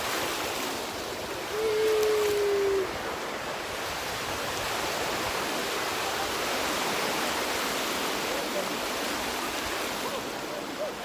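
Waves wash continuously onto a beach, a constant hissing roar of surf, with a short faint voice briefly rising over it near the start.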